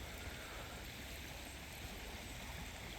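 A small creek swollen by floodwater flows in a faint, even hiss of rushing water that stays steady and unbroken, with no voices.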